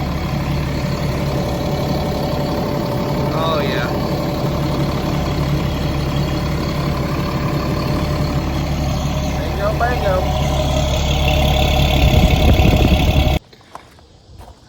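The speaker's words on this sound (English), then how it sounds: "Exhaust out the side, no longer in the cab of the motorhome." A diesel pusher motorhome engine idles with its exhaust routed out the side, a steady low rumble running throughout while someone speaks briefly over it, before the sound cuts off abruptly near the end.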